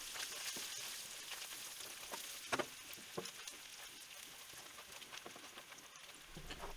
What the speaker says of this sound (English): let it go at low heat and come up to temperature so that all of the fat can render out into the pan